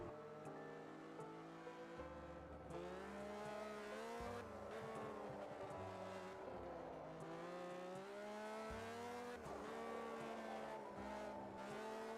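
A race car in Project Cars 2 drifts with rising and falling engine revs and sustained tire squeal, a continuous, fairly faint whine through the turn.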